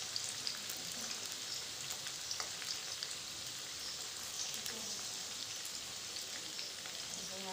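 Onion pieces frying in hot oil, a faint, steady crackling sizzle that runs throughout like light rain, with occasional small pops.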